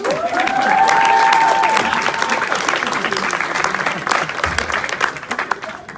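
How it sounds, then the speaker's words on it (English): Applause and cheering fill a live comedy panel stage at a comic convention, dense and sustained, with an audience crowd clapping loudly and a voice briefly over it before it tapers off. "Ladies and gentlemen, big round of applause for Tim Real."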